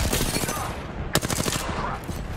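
Rapid bursts of gunfire in Apex Legends, R-301 rifle fire among them, crackling close and loud in quick volleys with a sharp crack near the middle, under faint game noise.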